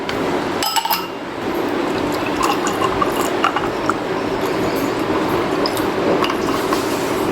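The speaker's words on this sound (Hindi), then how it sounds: "आइस क्यूब्स डाल दूँगी।" Ice cubes drop into a glass for almond sharbat, a few sharp clinks and rattles near the start, then lighter scattered taps as the cubes settle.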